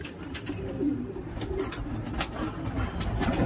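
Pigeons kept in a coop coo low and steadily throughout, a continuous murmur mixed with scattered clicks and rustling nearby.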